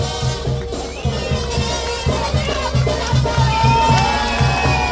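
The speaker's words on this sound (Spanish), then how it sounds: "hay que dar fuertes aplausos a los compañeros" Crowd at a Purhépecha community festival in Michoacán cheering and clapping to welcome visiting villagers from Pichátaro, a steady dense roar of voices with rhythmic drumming underneath, lively and continuous throughout.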